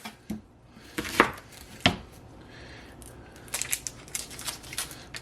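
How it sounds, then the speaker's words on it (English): A knife cuts the ends off a medium-sized onion on a board: a few crisp, separate chopping knocks near the start, then lighter scattered clicks and taps toward the end, close and fairly quiet. "I cut the ends off."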